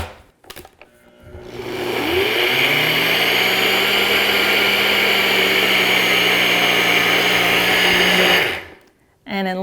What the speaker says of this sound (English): I've just dumped 3 cups of oats into the cup that comes with my NutriBullet mixer